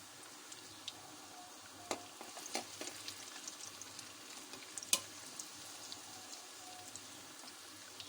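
Chana dal koftas frying in a pan give a soft, steady sizzle and crackle, with a few sharper clicks and taps as they are flipped, fairly quiet and with no talk.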